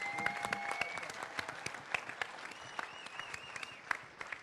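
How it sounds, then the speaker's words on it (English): At a surf night screening during a film festival, the audience gives a sustained round of applause, with quiet crowd murmur and a few whoops mixed into the clapping. "And I'd like everybody to give them a round of applause,"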